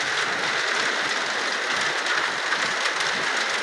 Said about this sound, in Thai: ฝนมาแล้วเนี่ย